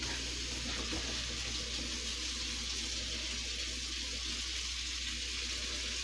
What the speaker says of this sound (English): I'm going to get these all rinsed off.